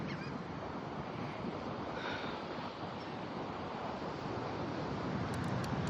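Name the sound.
ocean waves at Rehoboth Beach, Delaware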